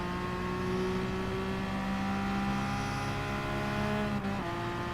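Race car engine in Gran Turismo Sport, a steady loud whine held close throughout with sustained tonal harmonics, pitch dipping briefly near the end as it shifts or lifts off.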